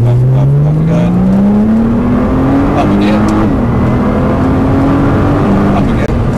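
A 2015 Nissan GTR accelerates at full power around Eelmoor Circuit on a supercar track day, its loud engine note climbing steadily in pitch through a long pull with a shift or two, heard from inside the cabin with people talking over it.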